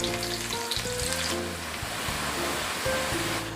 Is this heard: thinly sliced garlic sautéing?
yes